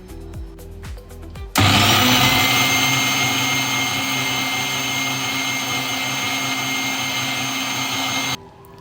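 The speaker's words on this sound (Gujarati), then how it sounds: "આ બધા જ જે પાવડર ફોર્મના મસાલા છે એને પણ આપણે એક વખત ક્રશ કરી લઈશું, મિક્સ કરી લઈશું" Electric grinder running continuously for about seven seconds as it crushes and mixes powdered chaas masala spices, a loud steady whine that starts abruptly after a short quiet lead-in and cuts off sharply near the end.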